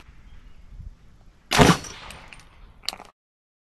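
A 300 Blackout subsonic round is fired into a ballistic gel block: one sharp, loud shot rings out midway, followed about a second later by a fainter secondary crack before silence.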